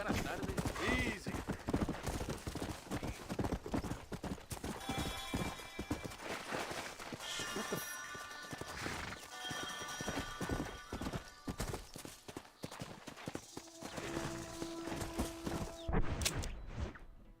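Horse hooves clip-clop and gallop in the Red Dead Redemption western game on PlayStation 5, a steady rhythmic pounding with occasional whinnies and game music and effects layered over it throughout.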